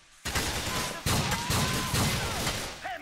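Sustained gunfire in Grand Theft Auto IV, a dense near fusillade of rapid shots in repeated bursts filling nearly the whole stretch after a brief quiet start, with gameplay sounds underneath.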